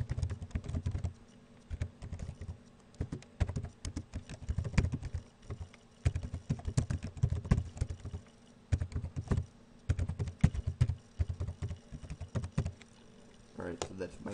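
Close computer keyboard typing, with bursts of quick key clatter broken by short pauses and a faint steady hum underneath.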